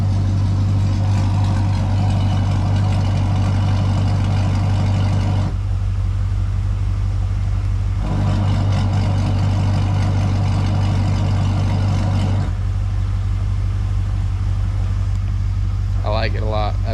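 An LS-swapped Chevy S10 pickup with Valvetronic exhaust and Caltracs idles loudly and steadily close by, a deep even rumble whose tone shifts twice as the exhaust changes, with a brief voice near the end.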